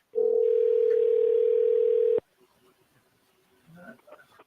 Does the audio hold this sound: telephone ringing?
yes